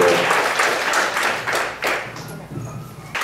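Audience applause for concert performers, a sparse patter of claps rising and fading in uneven waves, with a few voices murmuring underneath.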